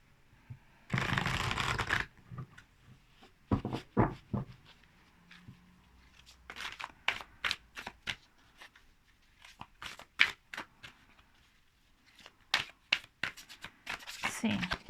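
A deck of WilderWoven tarot cards is shuffled by hand in a quiet room, with a sustained riffle followed by bursts of crisp card slaps and shuffles, while a person talks in between.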